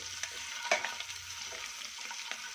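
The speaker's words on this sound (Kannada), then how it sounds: "ಬಿಸಿ ಹಾಕಬೇಕು ಮೊಟ್ಟೆ ರೋಸ್ಟ್ ಮಾಡ್ಕೊಳ್ಳಿ ನೋಡಿ" Eggs roasting in hot oil in a pan for dhaba-style egg masala, a steady soft sizzle with a few brief stirring scrapes and pops, close and alone.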